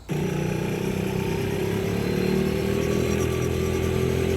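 A go-kart engine on an outdoor karting track powers out of a corner, its close, buzzing note climbing steadily in pitch as the throttle opens, continuous and loud with a clattery edge.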